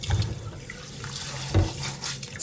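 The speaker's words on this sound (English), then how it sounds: "I'll then take that opportunity to wash my rice." Rice is washed in water at a kitchen sink, with a faucet running and water swishing and splashing in soft, uneven bursts, close by and fairly quiet, with no voices.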